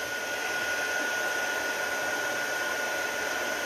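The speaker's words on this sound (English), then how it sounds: "let's bring the heat tool over" Heat tool used for embossing a stamped wedding card, a steady blowing hiss with a constant fan whine, moderately quiet and uninterrupted, with no speech.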